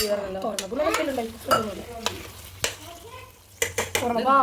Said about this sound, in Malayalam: നന്നായി വെട്ടി തിളക്കുന്നുണ്ട് കേട്ടോ